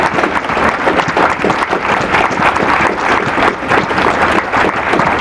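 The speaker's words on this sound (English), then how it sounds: "Give yourselves a big round of applause." A crowd at a student game awards ceremony applauds steadily for several seconds, a loud, dense wash of clapping with some cheering mixed in.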